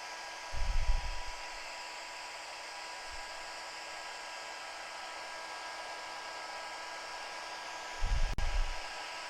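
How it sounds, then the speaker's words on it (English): A hair dryer blows on a snowflake transfer with a steady airy hiss. Two louder, closer bursts come at the start and again near the end. "So when I'm done blow drying this"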